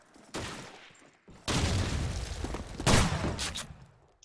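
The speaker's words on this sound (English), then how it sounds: "Raphael, Grease gun actually. I like that weapon. It's actually 32 bullets" Grease gun submachine gun firing in the World War II shooter Call of Duty 2 on the Dawnville map, several loud bursts of automatic gunfire close by, separated by short pauses.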